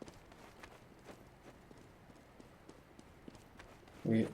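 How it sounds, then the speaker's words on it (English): Quick, light footsteps in the shooter game CS:GO, a rapid run of soft taps over low background noise, ending in a short louder burst. "You heard footsteps."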